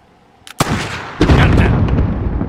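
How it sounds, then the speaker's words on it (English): In a first-person shooter video game, a grenade detonates with a sharp crack followed by a heavy, loud explosion that rolls on as a thick, sustained rumble with scattered gunfire-like pops. "Grenade out!"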